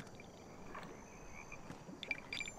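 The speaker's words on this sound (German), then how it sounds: "Und Frösche." Frogs croak in the video game ZombiU, a faint scatter of short calls over a low ambient bed, with a few sharper croaks clustered near the end.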